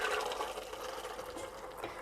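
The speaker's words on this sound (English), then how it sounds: "now our beans are tender and we're just going to drain them" Water from cooked, tender beans pours out steadily as they are drained in a home kitchen, a faint continuous splashing rush.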